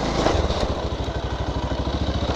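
A motorcycle ridden inside a school grounds, its engine chugging in a fast, even pulse close by and loud for a couple of seconds.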